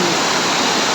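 River water rushes and splashes steadily in an outdoor grassland setting near Bhutan, a dense, continuous wash of flowing noise close by with no pauses.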